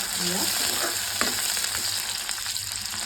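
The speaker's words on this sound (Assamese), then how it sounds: "মই পিঁয়াজখিনি অকণমান ভাজিম, পিঁয়াজ আৰু জলকীয়াখিনি।" Onions and chillies fry in refined oil in a wok with a steady, close sizzle and a few brief stirring scrapes, no voices present.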